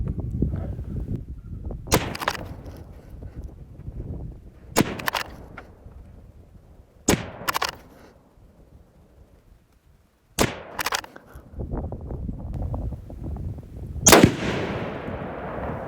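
Rifle shots from a Tikka T3X Varmint or Steyr THB fired at a range, several sharp cracks spread across the stretch over a steady outdoor background, some in quick pairs, the last one louder.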